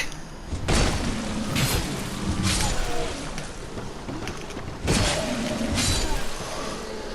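Heavy booming impacts in a video game, two strong crashing hits landing several seconds apart over a rumbling, noisy backdrop, the second swelling loud and then trailing off.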